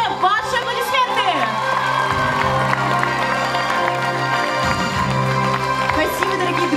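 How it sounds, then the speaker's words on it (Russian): An audience claps and cheers in a hall after a children's choreography school opens a children's dance festival, with steady applause and crowd noise under an announcer's voice and music fading out. "Ваши аплодисменты!"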